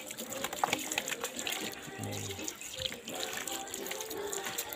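Water gushes and splashes steadily onto live fish in a container, a continuous close pouring wash with no talk over it.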